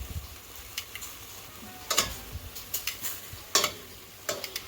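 Chicken fries in a pan just after being flipped, for a creamy chicken vegetable soup. A quiet, steady sizzle is punctuated by a series of sharp spitting pops and ticks.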